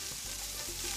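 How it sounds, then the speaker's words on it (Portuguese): Bacon frying in its own rendered fat over moderate heat for cornbread with pork, a close, continuous crackling sizzle with steady hiss throughout. "e fritando, né? Só que é na própria gordura."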